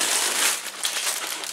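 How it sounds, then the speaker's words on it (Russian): Rustling plastic packet wrapping an Avon hat, handled up close with loud, continuous crinkling and crackling. "Тоже идет вообще в шуршащем пакетике."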